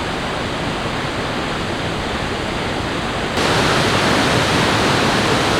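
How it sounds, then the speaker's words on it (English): A massive waterfall, 150 meters high, in the Faroe Islands, producing a steady, dense roar of falling water heard close and loud, growing slightly louder partway through, with no voices. "This is a massive waterfall"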